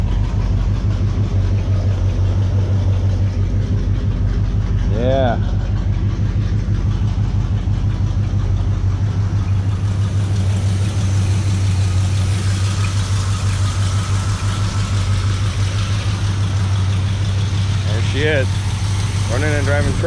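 A 1972 Chevrolet C20 truck engine idling on a cold morning while warming up, a loud, steady low rumble that runs unbroken throughout, with a few brief voices speaking over it.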